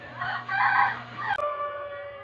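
A rooster crows one loud cock-a-doodle-doo up close as a guessing-game sound, immediately followed by a steady electronic tone.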